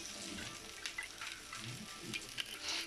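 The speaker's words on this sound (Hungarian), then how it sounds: "Tehát az olajban üvegesre dinszteljük a hagymát" Chopped onion and greens sautéing in olive oil in a pan on a home cooking show, a soft steady sizzle with small pops and occasional stirring scrapes, close and moderately quiet, no voices.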